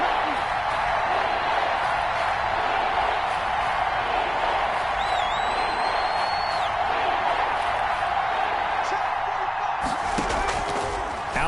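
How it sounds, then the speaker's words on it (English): A stadium crowd in a PS4 football video game roars steadily and loudly ahead of a big third down, a dense, unbroken wash of cheering that fills the whole stretch with no clear voice on top. "the crowd getting into it as we come up on a big 3rd down"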